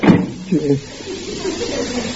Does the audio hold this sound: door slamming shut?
yes